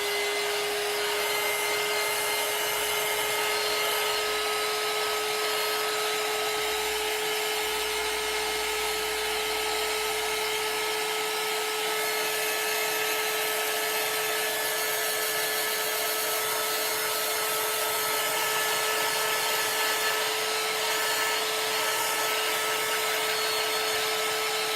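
A hair dryer blows continuously while drying freshly applied chalk paint, giving a loud, steady whir with a constant whine that runs unbroken through the whole stretch.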